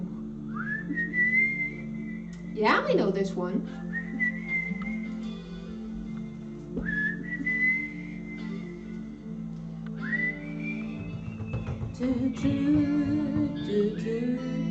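Someone whistles a tune in long, rising held notes, repeated in phrases over a low hum, and a voice speaks briefly partway through.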